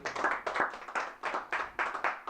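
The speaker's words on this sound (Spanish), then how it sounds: "Denle un fuerte aplauso si me está entendiendo el Señor" A church congregation claps together in steady, rhythmic bursts, roughly two per second, moderately quiet and with no voices over it.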